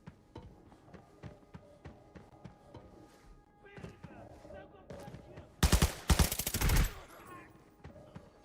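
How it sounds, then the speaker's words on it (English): Gunfight inside the bunker in the Arena Breakout shooter: scattered single shots and clicks, then a loud, dense burst of rapid automatic gunfire around the middle before it trails off, with a voice faintly present underneath. "There's a gunfight going on inside"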